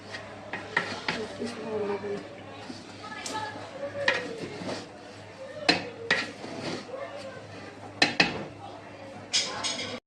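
Spoon scraping and knocking against a pot as biryani is stirred at home, a run of irregular metallic clinks and taps, some sharp, with faint voices now and then.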